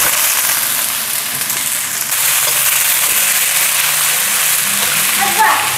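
Continuous loud sizzling and crackling of long beans stir-frying in a hot pan with chili and ginger, steady throughout, with no pauses.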